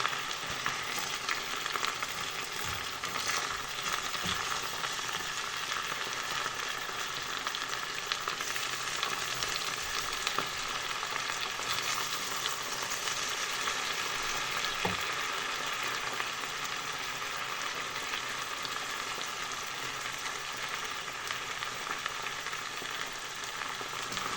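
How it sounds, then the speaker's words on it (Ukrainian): Potatoes with mushrooms and bacon sizzle and crackle steadily in a hot pan, a constant frying hiss with occasional stirring clatter. "хай воно смажиться потихеньку"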